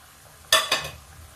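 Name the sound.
masala with tomatoes frying in a pan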